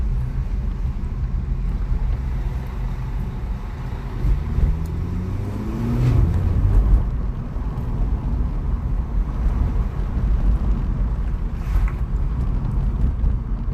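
A Polo 6c GTI rolls over a rough road, with steady low engine and road rumble, wind buffeting, and a brief swell in the middle.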